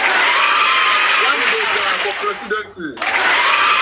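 Loud, dense applause and crowd cheering, continuous and close, with a voice talking over it and a short dip near the end before the clapping surges back.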